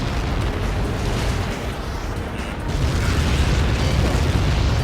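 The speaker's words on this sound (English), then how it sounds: "How many got caught in that explosion?" A huge explosion on impact in the combat flight game Ace Combat 7 fills the scene with a sustained, loud, roaring rumble of dense broadband noise that swells slightly toward the end.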